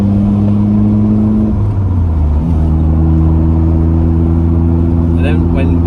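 A struggling car jerks and lurches on the road, its loud droning engine hum dropping abruptly in pitch twice before settling back into a steady tone.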